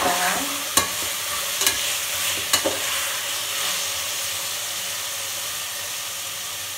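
Chopped coriander and mint sautéing in a pan for veg brinji give a steady broad sizzle and hiss, with a few sharp stirring clinks early on and no talking.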